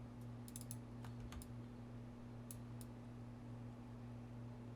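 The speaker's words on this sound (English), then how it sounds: "if I hit 1 on the keyboard, it'd probably make a lot more sense" Computer keyboard keys pressed while modeling in Maya, a handful of faint, sharp clicks spread over the first three seconds against a steady electrical hum.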